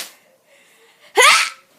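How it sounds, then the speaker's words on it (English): A person lets out a weird, unusual sneeze: a faint breathy build-up, then one sudden loud burst that fades quickly, heard up close and alone. "Today I'm going to be showing you my sneeze because I have a really weird sneeze"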